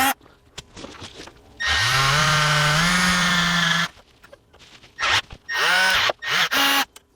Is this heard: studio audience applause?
no